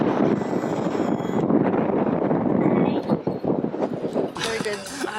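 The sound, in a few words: wind blowing into microphone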